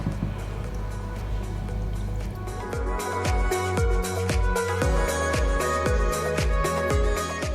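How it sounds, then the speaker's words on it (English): Water poured into a baking bowl while making Nigerian vegan moi-moi, a continuous close trickle with a steady wash of liquid, then a run of distinct splashy drips and plops. "I will go ahead and pour in some quantity of water inside my baking bowl"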